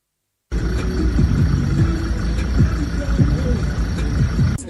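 Heavy road traffic at a jam near an airport: a constant low rumble of idling cars and trucks, with occasional passing engine swells and a voice talking over it.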